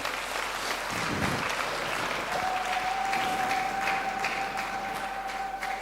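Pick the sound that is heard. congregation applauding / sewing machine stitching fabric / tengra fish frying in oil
congregation applauding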